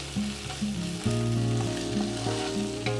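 Onions and mint leaves fry in a pan for a Kollegal-style mutton pulao, a steady close sizzle heard beneath background music with no talking.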